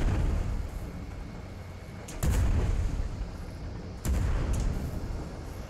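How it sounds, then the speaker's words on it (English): Cannons fire from an enemy ship in a naval video game, two heavy booming blasts a couple of seconds apart, each followed by a rolling rumble over a loud, dense background. "This other ship is firing back now."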